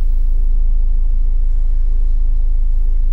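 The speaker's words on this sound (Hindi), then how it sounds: "जैसे हम गाड़ी चालू करते हैं" A Maruti Suzuki Swift Dzire car engine idles after starting, a steady low rumble heard close and continuous with no voices over it.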